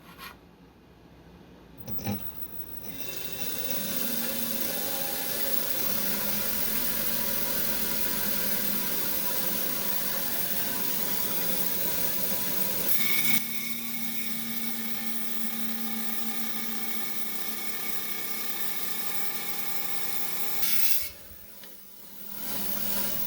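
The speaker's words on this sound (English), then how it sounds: "we're going to trim this rock out on this 2-auto 8-inch trim saw here" An 8-inch trim saw cuts through green aventurine rock with a steady, loud, high grinding whine that holds for about twenty seconds. The tone shifts partway through as the blade load changes, then the saw winds down near the end.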